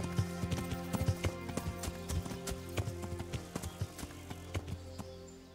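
A horse's hooves clip-clop at a steady, even walking rhythm in Kingdom Come: Deliverance. The beats are close and crisp, with no talk over them.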